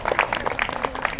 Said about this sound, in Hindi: जिसके पूरे हैं उन्हें छोड़कर सब ताली बजा सकते हैं